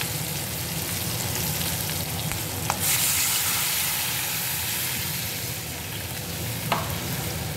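Water poured onto spice paste fried in oil for a fish curry with mango sets off a steady, close sizzle and hiss of frying, with faint stirring clicks and no talk.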